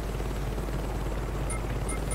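A helicopter in Saints Row 2 flies nearby as a constant, dense, loud rotor and engine rumble that fills the whole stretch, with faint high game tones briefly on top.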